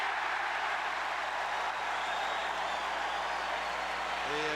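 Arena crowd at a 1989 Cleveland Cavaliers–Knicks basketball game roaring as a technical free throw is missed, a continuous broad wash of crowd noise holding steady at moderate distance.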